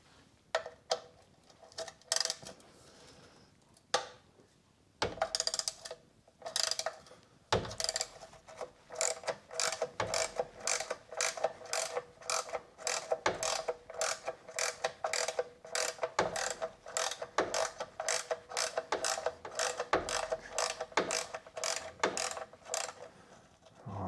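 A ratchet spins off multi-spline, Torx and hex bolts holding the undertray of a 2009 VW Beetle 1.4 petrol, its rapid clicking coming in long close bursts after a few separate clicks and knocks.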